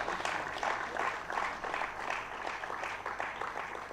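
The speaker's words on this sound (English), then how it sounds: "Huge round of applause for them." Faint, distant audience applause at a college financial literacy quiz, a soft continuous patter of clapping lasting a few seconds.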